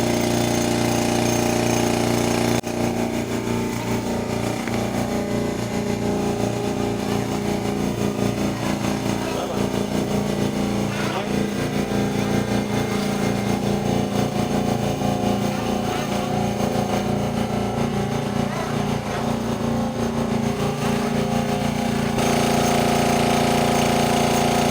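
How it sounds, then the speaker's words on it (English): Makita and SpeedAir air compressors run together in a flow rate test, a loud continuous motor drone with a rapid pulsing chatter that holds steady before dropping off near the end. "the flow rate of the two compressors"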